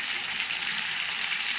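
Tomatoes hit hot rendered pork fat in a pan and sizzle steadily, a bright, even frying hiss held close and continuous, with no voices over it.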